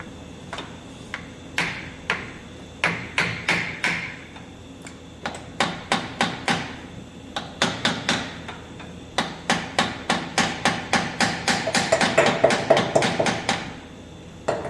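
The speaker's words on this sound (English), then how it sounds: "So, claw hammer." Repeated claw hammer blows strike an abandoned tractor in quick bursts, sharp metallic knocks coming in clusters with short pauses between them, close and loud.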